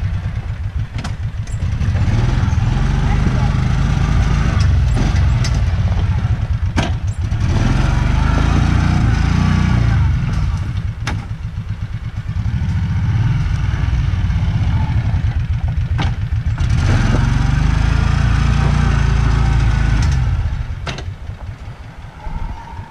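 A Kawasaki Mule utility vehicle runs its engine on a steep hill climb, a loud, close, steady drone that surges and eases in two long swells, with occasional sharp knocks.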